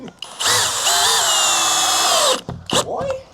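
A handheld power drill whirs loudly and close for about two seconds on a garage flat-roof construction job, then stops, followed by brief short bursts and clatter.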